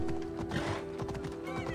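Horse hooves clip-clopping and a whinny while riding in the video game Assassin's Creed Odyssey, a brief close burst of rapid hoofbeats with a short neigh over a steady game tone.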